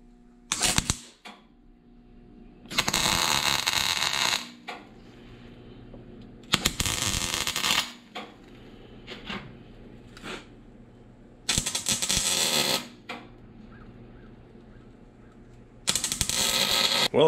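Arc welding on an old cheap forklift: repeated bursts of loud crackling and sizzling, each a second or two long, separated by quiet pauses and small clicks.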